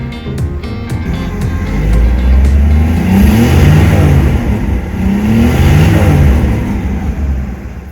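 Six-cylinder car engine idling and revving with a carburetor, loud and close, the revs rising and falling in two long swells over a steady rumbling idle, with no voices.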